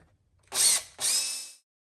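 A benchtop milling machine drills and taps, giving two short bursts of high, whining motor and cutting noise, the second slightly longer, separated by a brief pause, fairly close with no talking.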